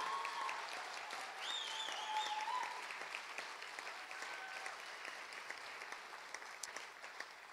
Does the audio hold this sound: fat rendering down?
no